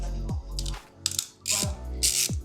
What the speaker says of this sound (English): Open the nut from the oil pan.